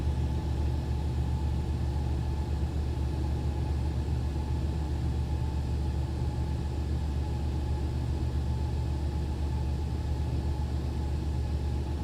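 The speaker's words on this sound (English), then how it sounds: "Listen to those engines." Steady, loud jet engine drone from an inibuilds Airbus A350 in Microsoft Flight Simulator, with a deep rumble and an unbroken hum that holds for twelve seconds and has no talk over it.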